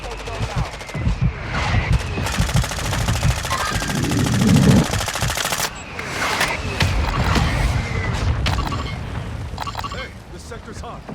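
Sustained automatic gunfire in the Call of Duty Warzone 2.0 video game, dense rapid rattling bursts with heavy booms, loud and continuous, with game voices talking over the shooting.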